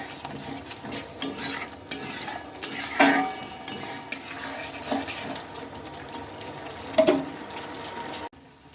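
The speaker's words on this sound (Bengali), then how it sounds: "আবারও ভালোভাবে এটাকে নেড়ে চেড়ে নিতে হবে" Khichdi masala, loosened with a little water, is stirred in a pot, with a spoon scraping and clinking against the metal in irregular bursts over a soft sizzle, close and fairly quiet.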